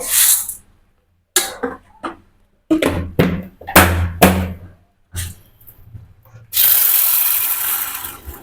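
Water splashes from a tap in short bursts over lentils being soaked, with intermittent clattering handling sounds, then ends in a longer steady gush of running water near the microphone.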